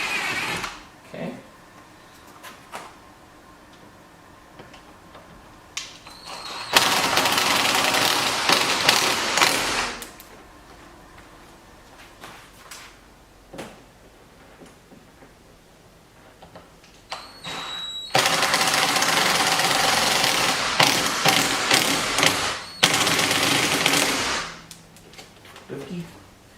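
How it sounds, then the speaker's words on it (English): Screw gun fitted with a drill bit boring into a C8 Corvette bumper, two loud bursts of rapid hammering whir a few seconds each, separated by quieter handling clicks and scrapes. "This is a screw gun with a drill bit, guys, just so you know. So that's why the little hammer in there is making that"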